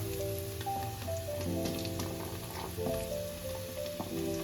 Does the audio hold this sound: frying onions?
yes